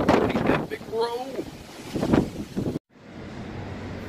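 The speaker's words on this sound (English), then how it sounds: "there's some killer waves over there" Wind rushes and ocean waves wash around a cruise ship at sea on its last night, a loud blustery roar under a voice that then drops to a quieter steady whoosh.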